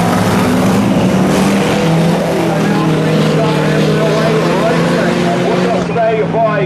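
Several race cars at a Taipa circuit race, engines roaring together as the pack gets the green flag and accelerates off the start, loud and continuous with a commentator talking over them.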